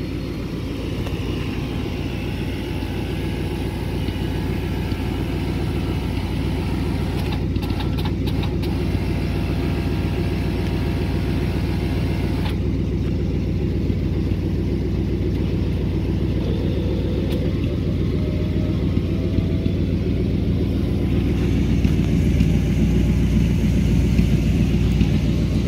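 A 1958 Ford Fairlane 500 Skyliner retractable-roof convertible cycling its roof mechanism, a steady mechanical hum and engine rumble running continuously and fairly loud, shifting in tone partway through.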